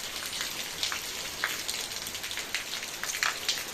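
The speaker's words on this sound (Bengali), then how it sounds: "যা পরিমাণে বৃষ্টি" Heavy rain falling outside a house, a dense, steady hiss of downpour with scattered sharper drop hits, close and continuous, with no one talking.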